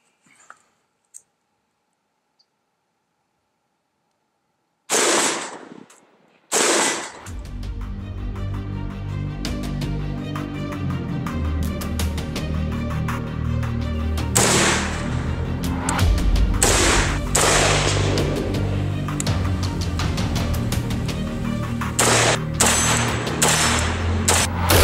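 A Tavor bullpup rifle fitted with a Timney drop-in trigger fires at steel targets outdoors, several sharp, loud shots in quick strings after a quiet start, with booming reports and echo carrying between them.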